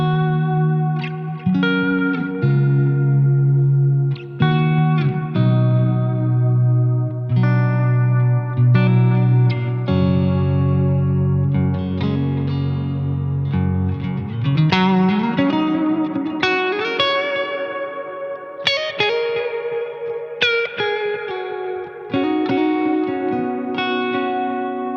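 Electric guitar through a Soldano Astro 20 amp with reverb and compression, playing sustained chords and melodic lines for about 25 seconds, bright and full with a lingering reverb tail, steady and loud with no talking.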